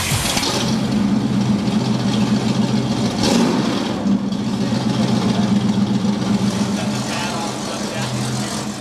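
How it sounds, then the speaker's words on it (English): An old classic car engine runs steadily close by, a continuous mid-pitched rumble with a brief rev around the middle, held throughout at fairly even loudness. "this will probably be the last firing of this old engine"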